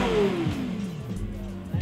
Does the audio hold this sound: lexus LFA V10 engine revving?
yes